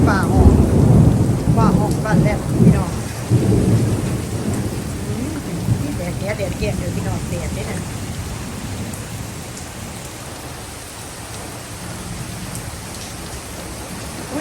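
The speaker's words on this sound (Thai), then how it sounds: "ฟ้าร่องฟ้าแลบนี่เยอะมากนะคะ" Steady heavy rain hisses throughout, with deep rumbling thunder rolling strongly at the start and fading to a lower roar.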